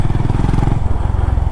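Engine of a 2023 Honda CB350RS motorcycle lugging at low speed in third gear, a loud close rhythmic low thumping with a knocking pulse throughout.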